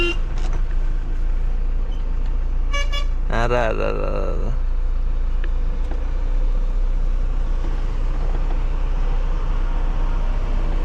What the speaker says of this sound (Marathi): ओय ट्रॅफिक.